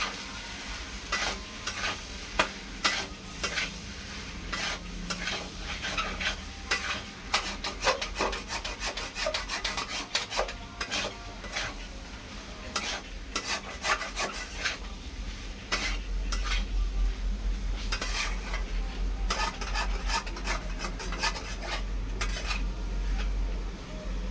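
A utensil scrapes and stirs potato posto in a pan with mustard oil, making rapid repeated clinks and rubbing scrapes against a low background sizzle, close and continuous.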